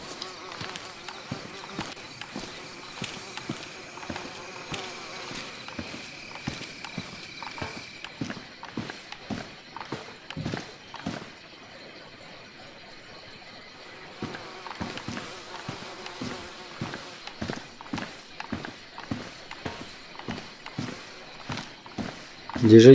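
Flies buzz around bodies lying on a road in the survival game DayZ, a faint steady drone under repeated footstep-like clicks and thuds, with a quieter gap midway.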